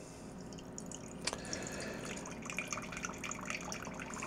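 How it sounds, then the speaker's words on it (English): A wine glass is rinsed with water, giving a faint trickling, dripping and splashing sound that runs softly for a few seconds, with one brief clink near the middle. "Let's do a little rinse of the glass first."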